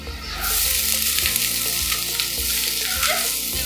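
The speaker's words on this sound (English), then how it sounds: "And now we'll just put in the rice." Cooked rice tipped into a hot pan with turmeric and salt for lemon rice, a loud close sizzle and crackle that swells as the grains land and keeps frying steadily with faint stirring scrapes.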